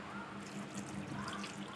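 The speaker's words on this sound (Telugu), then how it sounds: "నేను వచ్చేసి ఒక పెద్ద గ్లాస్ అంతా వాటర్ వేసుకున్నాను" Water is poured from a large glass into a village-style drumstick (moringa) curry with coconut, giving a steady splashing trickle that lasts the whole moment, close and fairly soft, with no talking.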